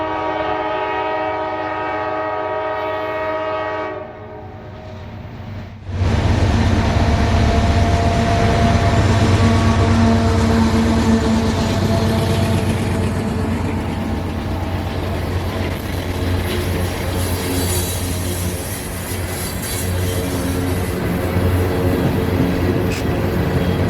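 A southbound manifest freight train, Q583, just under a mile long, opens with a loud horn blast, then rumbles past close by in a continuous heavy roar of wagons and rail noise.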